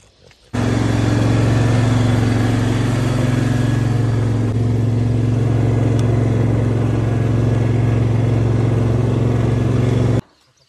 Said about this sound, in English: All right, we're gonna move the lawnmower.